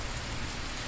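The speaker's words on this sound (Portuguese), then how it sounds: "chuva farta, hein? Tá compacta a chuva" Heavy, dense rain falls steadily over Santos on the São Paulo coast, a continuous loud hiss of downpour on surfaces with no voices, even and unbroken throughout.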